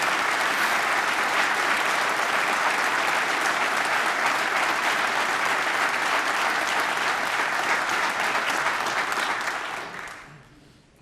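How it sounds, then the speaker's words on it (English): Loud, dense applause from a legislative chamber audience during a governor's State of the State address, steady for about ten seconds before quickly fading out. "So y'all give Dr. Voss and Secretary Voss a round of applause."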